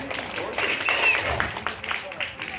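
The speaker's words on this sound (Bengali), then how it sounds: "একবার হাততালি দিয়ে অভিবাদন জানান।" An audience at a theatre festival gives a burst of clapping applause that carries on steadily. Someone talks over the applause the whole time.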